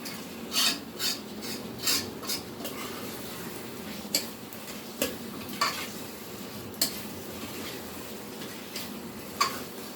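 Steady sizzle of chopped tomatoes frying in a pan with scattered stirring clicks and scrapes of a utensil, continuous and close, with no talking.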